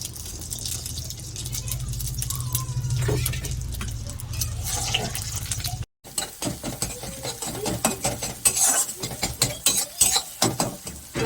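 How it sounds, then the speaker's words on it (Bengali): Two eggs being scrambled in a pan over a high gas flame for home-style chow mein: close, busy scraping and clinking spatula strokes over a steady hiss, with a brief break midway before quicker, irregular scrapes resume. "ডিম ভাজা হয়ে গেছে, আমি তুলে নেবো।"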